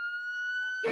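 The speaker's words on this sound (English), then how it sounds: "kill the sirens" Police car siren wails as a steady high tone with harmonics during an Arkansas high-speed chase after a stolen SUV, then cuts off into a brief burst of noisy clatter at the end.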